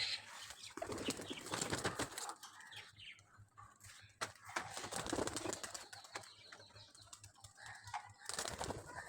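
Repeated bursts of wings flapping, close and busy, with a few short bird calls between the flurries.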